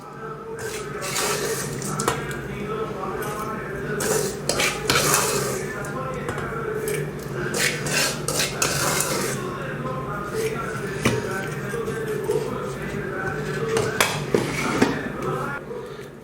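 Rava (semolina) dry roasting in a pan for rava idli without water, with repeated scraping and stirring strokes of a spatula against the pan in irregular bursts, close and fairly loud, over a faint background hum.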